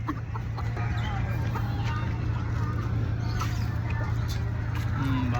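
Broiler chickens cluck and call at a busy local meat market, with steady crowd noise and a constant low hum underneath, and a few scattered bird calls throughout.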